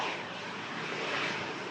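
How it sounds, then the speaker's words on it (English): A Ryanair airliner taxis toward the runway at Manchester Airport on a stormy day, giving a steady, loud broadband engine roar that holds evenly throughout with no voices. "Here's the Ryanair from Prague. Just taxiing off in front of us here at the runway visit park."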